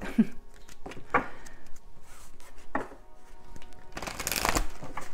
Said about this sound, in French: 2 petites minutes que je brasse un peu le jeu